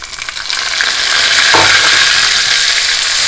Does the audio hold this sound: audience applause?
no